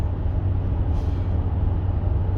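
Steady low rumble of a car engine and road noise from inside the vehicle while driving, continuous and even throughout, with a brief higher hiss partway through.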